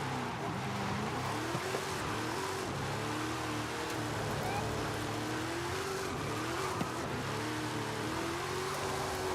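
Cars race in Forza Horizon 5, with steady engine drone, rising and falling revs as gears shift, and occasional tyre squeal, continuous and moderately loud throughout without talk.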